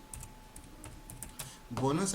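Computer keyboard typing in a spreadsheet, a run of light scattered key clicks close by, followed by a person starting to speak at the end.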